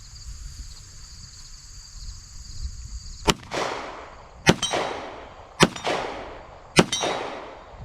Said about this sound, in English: And who just doesn't enjoy shooting a 1911?